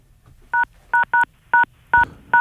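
Touch-tone telephone keypad dialing, six short sharp dual-tone beeps at an uneven rhythm, loud and close over a faint low hum, with no voices.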